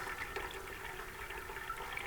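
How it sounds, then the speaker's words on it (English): Water drains off a tray of waterlogged Grand Rapids lettuce seedlings grown indoors, a continuous close trickle and rush that holds steady for about two seconds with no voices. "I'm gonna go ahead and drain this water off these poor little drowned lettuce seedlings"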